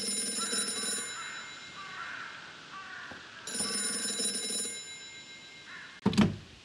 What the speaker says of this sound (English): That phone is about to ring.